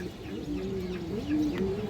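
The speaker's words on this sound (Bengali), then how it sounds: "খরা গলা নর কবুতর আছে" Male pigeons, including an old-breed khaki-necked cock, coo in low rolling, repeated calls close by, overlapping one another steadily with no talk.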